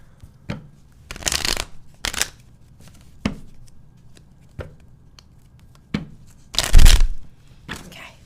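A tarot deck is shuffled in several short bursts, with crisp riffling rustles and sharp card taps spaced irregularly, close and fairly loud with no talking.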